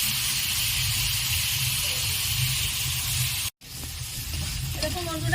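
Shrimp frying in hot oil give off a steady, loud sizzle and hiss that fills the whole clip. It cuts out for a moment near the middle, then returns, with faint stirring sounds underneath.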